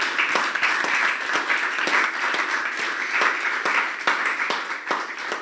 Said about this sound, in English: can you just give the GraceKennedy team a round of applause?